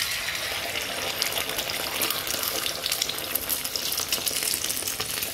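Scrambled egg with turkey ham frying in a pan makes a steady, close hiss and crackle that holds level the whole time, with no voices over it.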